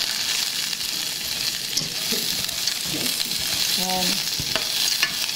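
Chopped onion for a chicken macaroni soup sizzles steadily in a hot pot, a broad hiss with a few stirring scrapes and clacks, and a brief word spoken near the end.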